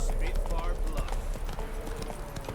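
In The Witcher 3 video game, the horse Roach gallops and jumps, with rapid rhythmic hoofbeats close up while someone talks over them.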